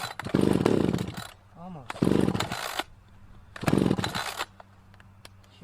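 An Echo chainsaw is pull-started repeatedly, with three long raspy yanks of the recoil cord, each a loud scraping burst, while a voice speaks briefly between pulls.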